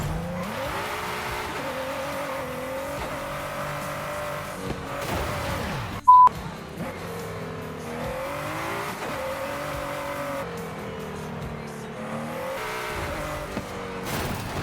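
Race cars in a Forza Horizon 5 circuit race, including a Chevrolet Corvette ZR1, with steady engine drone and shifting revs throughout, plus a brief sharp tone partway through.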